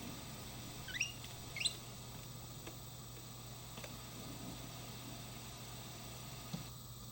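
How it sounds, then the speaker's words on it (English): Several birds in a tree give brief, sharp chirps, two clear ones early and fainter ticks later, over a constant hiss of distant running water outdoors. "And more birds in this tree."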